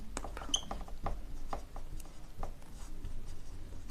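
Marker or chalk strokes on a board during a physics lesson, a quick run of short scratchy taps and scrapes at close range, steady and fairly quiet with no talking.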